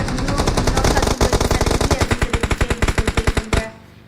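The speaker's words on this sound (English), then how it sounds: "He's receiving some gunfire from literally everywhere" Machine gun fire rattles in PUBG Mobile during a pro league grand final: a loud, sustained burst of rapid, evenly spaced shots that stops abruptly near the end, set over dense battle noise.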